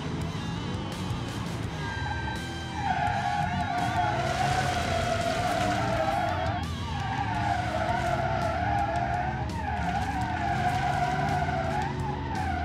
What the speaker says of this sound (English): You can drift any corner.